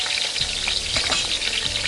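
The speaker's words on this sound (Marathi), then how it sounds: "आता पहिल्यांदा आपण मिरच्या टाकूया." Black hot chillies frying in oil for a Marathi chivda, a steady bright sizzle with a few soft stirring scrapes and no voices.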